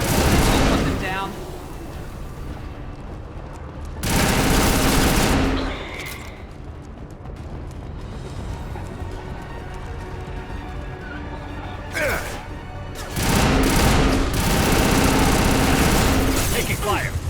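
Gunfire in the video game Mass Effect 2, heavy bursts of rapid shots and blasts swelling in dense loud waves with mechanical clatter, under game voices speaking during combat.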